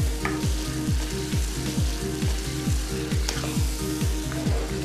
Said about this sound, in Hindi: अब हमने इसको खूब भूनना है।